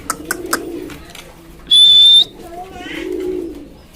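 Pigeons for sale give two soft, low, burbling coos, and a sharp, loud whistle sounds between them.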